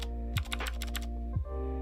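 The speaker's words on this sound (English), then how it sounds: "typing on this keyboard is very nice" Keystrokes clatter on an Ajazz K620T mechanical keyboard, a quick burst of several crisp clicks under a steady background hum, near and fairly quiet.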